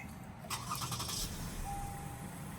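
A Lexus RX350 engine cranks and catches, a brief starter whir followed by a low, quiet idle heard from inside the car.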